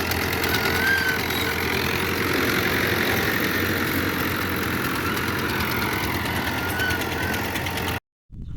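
A New Holland Al-Ghazi 640 tractor, a 75 hp 2019 model, runs steadily at close range with a loud, even rumble, then cuts out abruptly just before the end.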